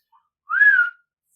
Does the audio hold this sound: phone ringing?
no